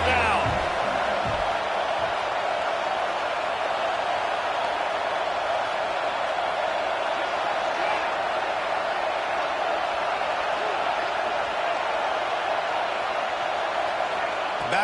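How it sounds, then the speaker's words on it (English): Stadium crowd at an Alabama Crimson Tide football game on third down, a steady roaring wash of cheering and noise from thousands of fans that holds loud and unbroken throughout, with talk underneath. "The Tide crowd rolling noise down on the Saban field on 3rd down"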